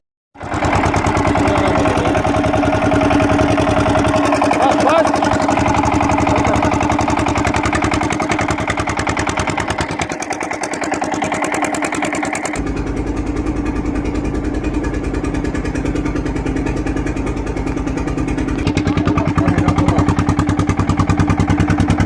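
A tractor engine runs steadily at a mid-pitched idle-like drone, loud and close, continuing without a break over many seconds with no voices on top.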